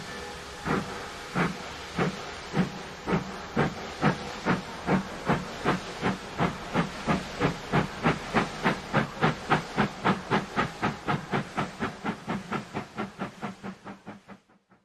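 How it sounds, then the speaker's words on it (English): A model BR-23 steam locomotive departs northbound on a model railroad, its rhythmic chuffing exhaust beats starting slow and quickening into a rapid, even puffing that fades toward the end. "another local, this one pulled by a BR-23 262 steam engine, departs northbound"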